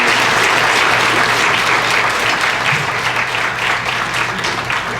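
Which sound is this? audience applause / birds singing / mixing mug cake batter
audience applause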